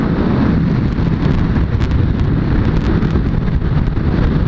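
Steady, loud wind buffeting the microphone of a rider on a Suzuki Bandit 600 S motorcycle, a dense low roar that continues unbroken with no talk.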